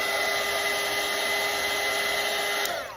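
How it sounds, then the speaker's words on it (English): A hair dryer blows steadily and loudly on a watercolor leaf painting, a continuous whirring rush that holds for about three seconds before starting to wind down at the end. "I am actually going to dry this with a dryer."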